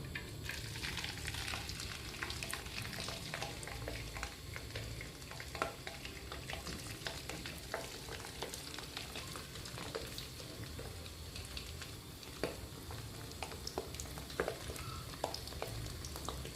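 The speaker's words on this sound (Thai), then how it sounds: "น้ำมันร้อนก็นำหอยลายของเราลงไปทอดเลยค่ะ" Clams frying in hot oil in a home kitchen, a steady dense sizzle and crackle running throughout with scattered sharper pops, close and continuous with no talking.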